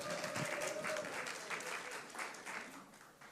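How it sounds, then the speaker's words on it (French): A church audience gives a round of applause after a presentation, a soft, continuous patter of many hands clapping from a distance for several seconds. "Bonne main d'applaudissements."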